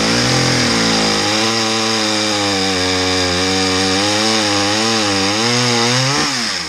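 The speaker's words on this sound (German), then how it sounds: "Hörst du das? Ja. Das ist so eine geniale Säge." A tuned Holzforma chainsaw runs loudly and steadily at high revs, its engine pitch wavering slightly, with no voices over it.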